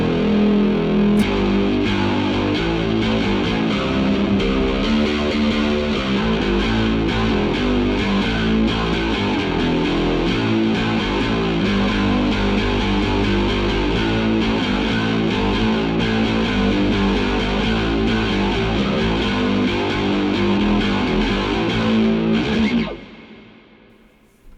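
Electric bass played through an Amplitube amp simulator rig using the bridge pickup with tone and volume at maximum, a dense continuous gritty, effected tone held loud for about twenty seconds before cutting off.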